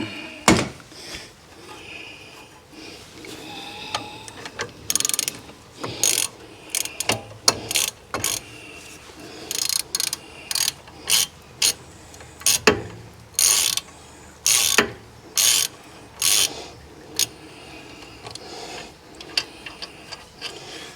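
A ratchet wrench undoes bolts on the brakes of a Rover 75 Tourer, its close, rapid clicking coming in repeated short bursts separated by brief pauses.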